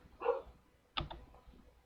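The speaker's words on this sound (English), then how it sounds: "we got dogs barking" Dogs bark indoors in the background, two short, faint yaps about three quarters of a second apart, with nothing else heard.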